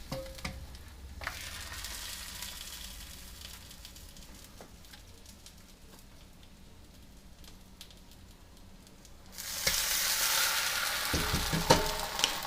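Beef short ribs fry and sizzle steadily in a hot pan for taco filling, with a broad hiss that softens for a while and then swells louder and denser near the end, with a few light clinks and taps.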